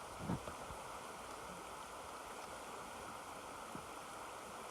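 River water rushing across a hiking ford in Maine, a steady broadband roar of flowing current, constant and moderately distant, with a couple of faint knocks and no talking.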